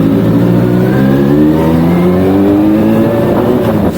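An old big motorcycle engine revs steadily upward toward 5,000 RPM, a loud close whine climbing in pitch for a few seconds before easing off.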